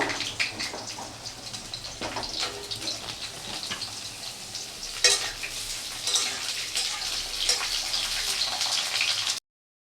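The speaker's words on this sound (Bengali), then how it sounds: "পেঁপেগুলোকেও ভেজে নেব" Papaya pieces fry in oil with a busy, crackling sizzle and scattered scrapes and clinks of a utensil in the pan, close and moderately loud throughout before cutting off abruptly.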